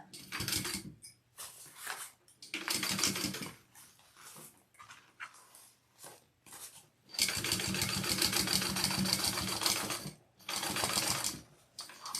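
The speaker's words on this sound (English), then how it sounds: "I want to top stitch, and then I will baste all the layers together." A sewing machine top stitches through several layers of fabric for a baby sling, running in loud mechanical bursts separated by short pauses, with one long continuous run near the end.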